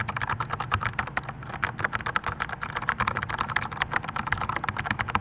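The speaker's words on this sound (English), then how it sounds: "This is just a keyboard. I'm just gonna type a little bit." Typing on a Corsair K65 keyboard with Cherry MX switches and O-rings, a rapid, dense run of crisp close-up key clacks in irregular rhythm, heard alone and fairly loud.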